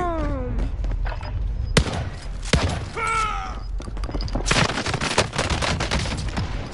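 Video game gunfire on PS4 crackles in rapid bursts and single shots, punchy and close, with game voices and player chatter under it.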